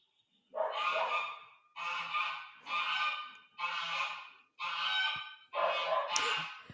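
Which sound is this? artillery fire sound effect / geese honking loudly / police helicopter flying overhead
geese honking loudly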